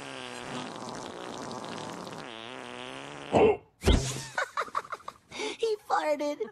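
A long, wavering, droning fart, fairly loud and continuous for several seconds, then breaks off abruptly as people talk and exclaim in an edited, comedic cartoon-style scene.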